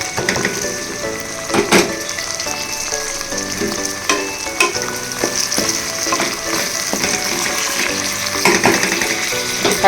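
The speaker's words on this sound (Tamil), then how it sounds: "தக்காளி நல்லா வதங்கட்டும்" Tomatoes sauté in a pan for potato biryani, giving a loud, steady close sizzle with intermittent stirring scrapes and clinks throughout.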